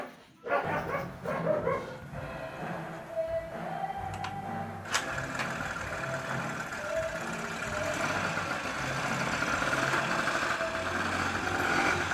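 A Honda two-stroke scooter engine kick-started, a few sharp kicks followed by the small engine catching and running with a steady buzzing drone that builds and holds close by.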